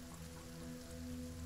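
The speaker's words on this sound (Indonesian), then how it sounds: "Hujan masih turun dengan lebat" Heavy rain falls in a steady, even wash of noise, faint and continuous, with a low hum running underneath.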